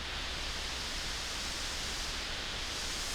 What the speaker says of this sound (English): That's a little bit of a mix of pink noise, mostly pink noise with white noise